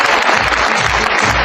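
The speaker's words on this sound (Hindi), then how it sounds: "लेकिन आज के बाद जब भी ताली बजाना किसके लिए?" An audience at a motivational business seminar claps loudly, dense continuous applause from a large crowd, close and steady throughout.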